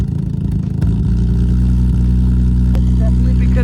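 A Nissan G35 drift car idles with a low, uneven exhaust rumble that stumbles and pops from a slight misfire; a voice speaks briefly near the start.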